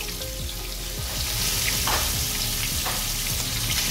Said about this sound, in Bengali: বিসমিল্লাহ চিকেনগুলো দিয়ে দিচ্ছি